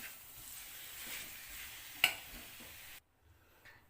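Mashed potato and masala mixture for potato bread bajji is stirred in a pan with soft scraping and a faint sizzle, and a single sharp clink midway before it stops abruptly.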